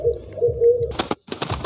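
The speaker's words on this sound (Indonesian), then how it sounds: "Oke, okay, kita tunggu burung man ya." A bird call in the horror video game Pocong Hunter, a low hooting coo repeated a few times, followed by a louder burst of broadband game noise.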